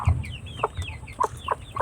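A small hen, about to settle onto a clutch of thirteen eggs for brooding, gives several soft, close clucks in an uneven rhythm, with no one talking.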